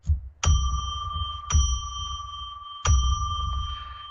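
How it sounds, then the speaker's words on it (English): A bell struck three times, each strike a bright ringing tone that lingers and fades before the next, spaced unevenly, clear and close with light background murmur. "let me ring a bell 3 times to declare sacred space"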